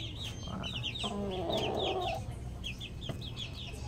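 Sweater-line gamecock rooster clucking in a steady run of short, close calls, with a brief burst of louder fowl noise in the middle and other farm birds faintly behind.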